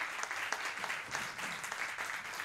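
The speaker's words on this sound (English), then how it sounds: "May we have a round of applause for great presenters today." A university evening event audience applauds the presenters, a sustained, even patter of many hands clapping, somewhat distant and soft, with no talking over it.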